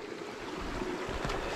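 Water bottle being filled in a small forest stream in Tasmanian backcountry, a soft continuous trickle and gurgle of flowing water, close and fairly quiet, with no voices.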